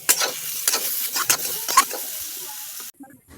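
Brinjal and potato pieces are stirred and fried together in a pan, giving a series of short, near scraping and sizzling strokes at an uneven rhythm before the sound cuts off.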